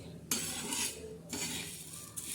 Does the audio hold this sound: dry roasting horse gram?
yes